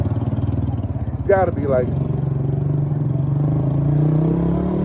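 Small motorbikes pass in traffic, a steady mid-pitched engine drone with a brief rising rev, running under someone talking close by.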